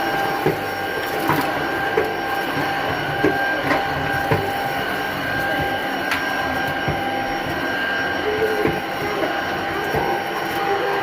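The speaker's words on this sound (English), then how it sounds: "it's vacuuming up pieces of gravel and stuff like that" A Tocmoc T230 stick vacuum runs with a steady broadband whir while sucking up gravel, small clicks and rattles of stones scattered throughout at a close, moderate level.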